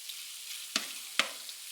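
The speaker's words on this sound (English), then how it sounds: "I'm going to turn this on about a low to medium heat and let it cook for just a few minutes." Spices and other ingredients fry in a skillet on low-medium heat, giving a steady soft sizzle with two sharp clicks or pops partway through.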